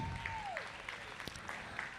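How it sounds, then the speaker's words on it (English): Faint, distant audience applause at a junior showmanship event for an intermediate showman, a thin patter of clapping with a brief descending whistle-like tone near the start. "Let's give your intermediate showman a big round of applause"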